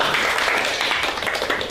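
Students in a school crowd clap their hands together in a dense, steady burst of applause, loud and close.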